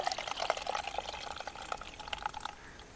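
Water is poured out in a rural kitchen while green moong roti dough is prepared beside a traditional clay stove, a light splashing, trickling pour close by that tapers off toward the end.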